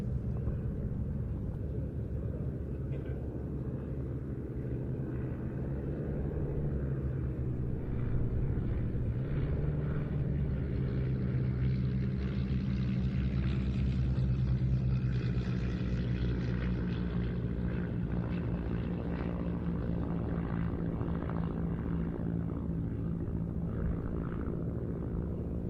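A Shuttleworth Miles Magister propeller plane drones overhead at an airshow, a steady, moderately distant engine rumble that swells slightly as it passes and fades.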